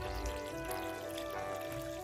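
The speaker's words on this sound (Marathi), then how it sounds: "आता ह्याच्यामध्ये पाणी ओतून हे भरून ठेवायचं" Water poured into a cooking vessel while preparing rice kharvade, a soft continuous pouring and trickling sound, fairly faint and steady for the whole stretch.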